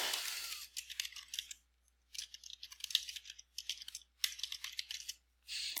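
Typing on a computer keyboard while entering a paper title, bursts of close, crisp key clicks with short pauses between them, quiet and with no talking.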